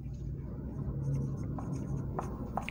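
Pen strokes on paper during a cube-volume maths solution, close and soft scratching in short rhythmic bursts with a few brief sharper flicks, no talk over it.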